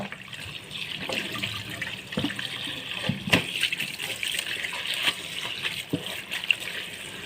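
Tap water runs while cassava leaves are washed in a sink, a steady trickling gush broken by a few splashes and knocks, close and moderately loud, no one speaking.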